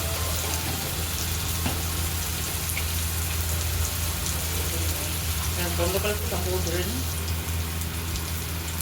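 Ground spices sizzle and fry in hot oil in a pan while being stirred for a fish-head and cabbage dish, with a steady, dense crackle running throughout and a slight scraping stir partway through.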